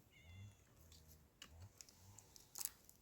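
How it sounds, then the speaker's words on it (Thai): A cat meows faintly a few times in a quiet setting, the soft calls mixed with scattered light clicks and rustles. "พวกแมวตามมาอีก"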